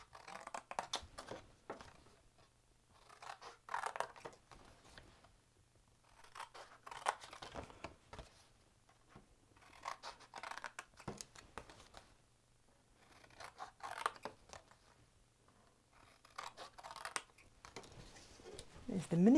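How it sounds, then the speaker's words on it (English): Scissors make repeated quiet snips while cutting away the corners of a paper exploding box, in a steady series of short cutting strokes with soft paper rustle between them. "we cut away all of these corners"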